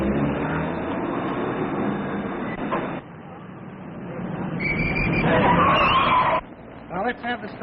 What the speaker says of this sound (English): Follow that car!